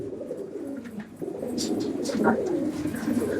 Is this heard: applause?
no